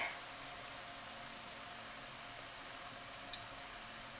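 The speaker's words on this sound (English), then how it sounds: "Nice and sizzling around the rice balls right there." Steady, soft sizzling of risotto rice balls frying in a pan, a continuous crackling hiss with a couple of faint clicks.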